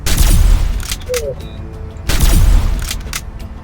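Gunfire in the Team Fortress 2 video game: two loud broadband bursts about two seconds apart, each with a rumbling tail, under quiet in-game ambience.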